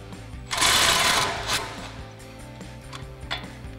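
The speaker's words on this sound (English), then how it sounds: "we're going to use our 19mm socket and swivel adapter on our impact to go ahead and run that off" An impact wrench with a 19mm socket and swivel adapter spins off an upper ball joint nut on a Toyota Tacoma, a loud buzzing burst up close followed by quieter clicks and short bursts.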